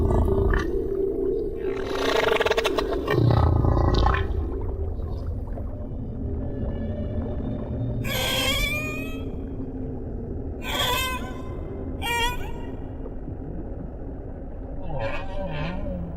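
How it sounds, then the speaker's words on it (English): Humpback whale song carries through deep ocean water in long, moaning and rising calls, with a few higher whooping phrases, repeated over a steady low underwater rumble. "It's possible that humpbacks have been singing their extraordinary, complex songs for millions of years."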